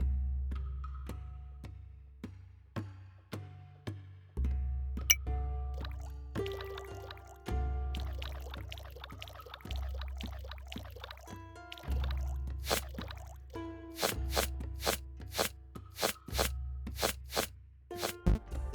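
Game sound effects for net fishing for shrimp and cooking them on a fire in FlatMMO: a steady rhythmic run of soft plops and drips over low looping tones, later joined by sharper repeated ticks.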